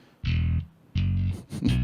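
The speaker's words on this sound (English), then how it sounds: "Synth bass." Funk synth bass line played without a metronome: two sustained low buzzy notes, then a quicker run of shorter notes, close and loud with nothing else.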